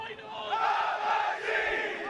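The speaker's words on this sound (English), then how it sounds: "you're hearing those chants" A large crowd of supporters chants loudly and steadily at an American football Division 2 championship game between the Highland Stags and Bristol Apache, with the chant rising and falling in waves across a noisy, open stadium.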